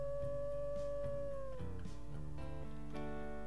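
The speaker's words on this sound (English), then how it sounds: "Just one more howl." A wolf howl in the video game WolfQuest rises as a sustained tone and then slides downward, set against steady layered game music with no talking.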